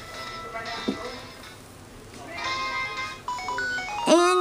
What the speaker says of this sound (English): our X-Transceiver is ringing